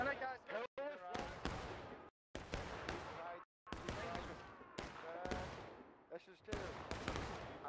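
Musket crossfire in War of Rights at Bloody Lane, sharp irregular volleys of shots cracking near and far, with voices talking over the gunfire.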